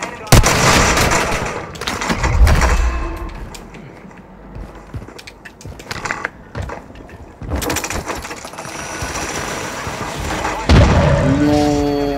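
Loud video game gunfire with repeated shots, heavy booms and rapid automatic bursts, fading to a lull mid-clip before another round of heavy firing.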